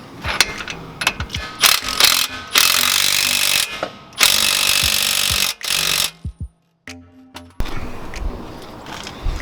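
A ratchet snugs nuts on a RAM 2500 during a shock delete mod, giving bursts of rapid clicking and buzzing mechanical whirring with brief pauses and metallic knocks between them, close and fairly loud.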